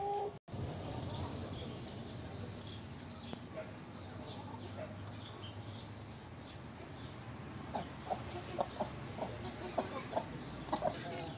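Free-range hens cluck softly on a farm where chicks are hatching, among scattered faint peeps and chirps over steady background noise, growing a little busier near the end.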